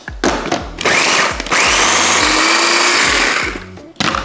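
Electric food chopper whirring loudly as it chops cilantro on a kitchen counter, with a few short pulses followed by one long continuous run and a final brief burst.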